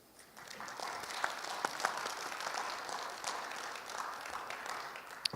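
Faint, distant applause from a conference audience at an APNIC NIR SIG meeting, soft and steady with a few sharper claps standing out.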